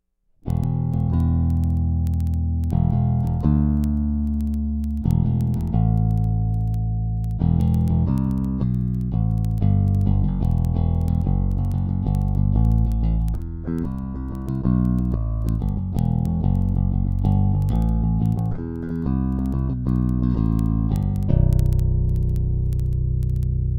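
A Hadean EB-9705 five-string electric bass is played with a pick through a flat EQ with the pickups balanced, a close, loud run of low, picked notes with a sharp attack on each, no talk.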